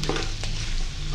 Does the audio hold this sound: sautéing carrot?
yes